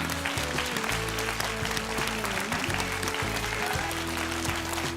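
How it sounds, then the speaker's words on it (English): An audience at a televised English debate final claps for both teams, steady applause under a bed of music. "one more round of applause for both teams tonight"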